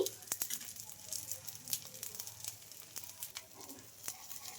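Oats dosa frying in oil on a pan gives a steady, faint sizzle with scattered crackles and pops, with no talking over it.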